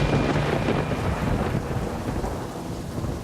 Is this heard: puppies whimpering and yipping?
no